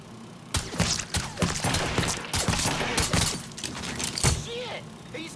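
Bursts of rapid gunfire fill a Mafia 3 firefight, dense overlapping shots and impacts at close range, with voices shouting over the shooting.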